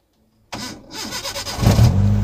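A used Hyundai Accent sedan, an ex-taxi with high mileage, cranks briefly on its starter and catches, the engine rising into a loud, close, steady idle.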